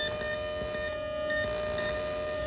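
Steady electronic tones with sharp, piercing harmonic overtones come from the Andromatic, an early electronic synthesizer built by Erkki Kurenniemi, heard alone at moderate level with a slight shift in timbre partway through.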